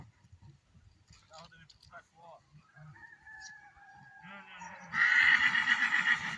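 A horse whinnies loudly and at length near the end, after quieter snorts and a few scattered voices; a rooster-like crowing call also rises during the stretch.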